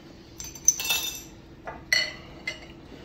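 A Burley bottle opener pries the cap off a glass beer bottle: a few sharp metallic clicks and clinks close by, spread over a few seconds in a quiet room.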